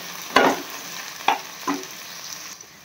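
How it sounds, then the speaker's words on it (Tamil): Okra frying in oil in a pan, a close steady sizzle punctuated by three scraping stirs, the first the loudest, before the hiss drops away at the end. "வழுவழுப்பு தன்மை போகிறது வரைக்கும் நல்லா ஃப்ரை பண்ணி எடுத்துக்கலாம்"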